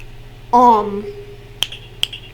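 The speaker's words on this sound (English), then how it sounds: "I'm just snapping my fingers" Two crisp, close finger snaps roughly half a second apart, each a sharp dry click with a short ring, following a brief voiced sound from the same person over a low steady background hum.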